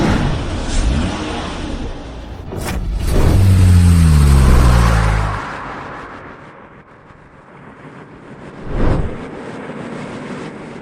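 A car engine revs hard while drifting, its pitch rising and holding loud and near for a couple of seconds before dropping away. A brief louder burst comes later, over a steady rumble.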